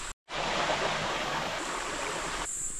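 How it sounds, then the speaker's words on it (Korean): The five-tiered Osung waterfall in Songnisan National Park in autumn rushes in a steady, even roar of falling water. After a brief cut at the start, the sound runs continuously and fairly loud, with no voices over it. "저기 오성폭포 보이네"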